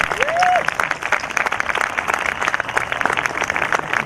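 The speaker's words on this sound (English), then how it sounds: "So let's give a big hand of applause to Dr. Johnson." A large graduation audience applauds Dr. Johnson with a thick, sustained burst of clapping that holds steady throughout. A brief whistle-like tone rises over the crowd near the start.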